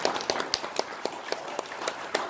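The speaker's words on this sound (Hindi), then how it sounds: "सर के लिए एक बार ताली बजा दीजिए।" Scattered, uneven claps from an audience at a direct selling seminar, a handful of sharp hand strikes spread irregularly across a couple of seconds, thin and moderately close rather than a full ovation.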